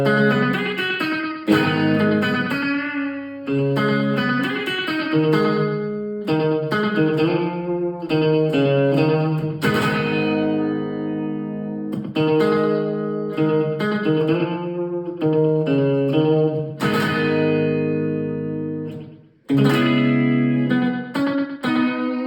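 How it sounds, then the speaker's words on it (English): An electric guitar runs through a Boss DD-8 digital delay pedal set for a reverb-like sound, playing sustained chords and melodic lines that bloom with long, washy tails over about twenty seconds, loud and continuous with no talking. "you could get a reverb sound out of your Boss DD-8"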